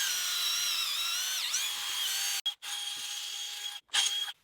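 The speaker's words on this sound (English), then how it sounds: "So we're going to drill a bunch of 1/2-inch holes." A power drill bores half-inch holes into a cut tree stump outdoors with a steady high whine, its pitch dipping under load, then stopping briefly twice before restarting.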